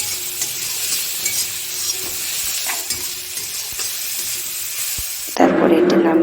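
Chopped tomato stirred and fried in a pan for an egg curry, a steady close sizzle with scraping stir strokes, turning louder and brighter for the last second.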